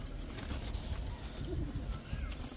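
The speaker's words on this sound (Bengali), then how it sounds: "এখন দেখাবো উড়তি লাইনের কিছু বাঘা কবুতর" Pigeons coo softly in a loft, one soft, low cooing call rising and falling amid steady background noise and faint bird sounds.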